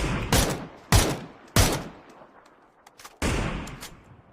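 Four separate bursts of P90 submachine gun fire in the battle royale game PUBG, sharp and loud at irregular intervals, with a couple of fainter distant shots in between and no talking.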